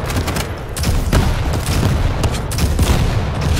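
Rocket launcher blasts and laser gun fire in the arena shooter Quake Champions, a dense, loud barrage of overlapping shots and booming impacts that keeps going for the whole stretch without a pause.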